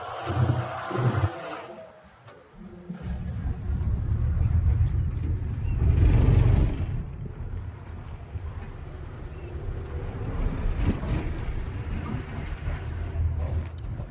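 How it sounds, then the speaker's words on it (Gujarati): Car used for driving lessons starts up and pulls away on an empty rough road: a low engine hum that swells and eases with revving, loud and close, mostly without talk. "તો આપણી ગાડી ચાલુ થઈ ગઈ છે"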